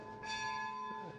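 A single bell cast by the Bollée foundry, struck once at a garden château, giving a clear ringing tone with bright overtones that hums on at moderate, somewhat distant volume.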